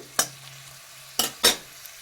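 Onions fry in a pan under a soft steady sizzle, broken by three sharp scraping stirs of a spatula against the pan.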